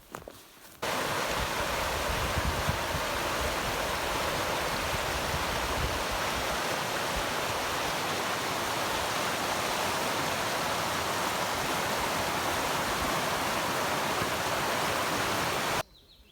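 Kynne river running beside a hiking trail, a continuous, steady broadband rush of flowing water that holds evenly throughout, with no voices.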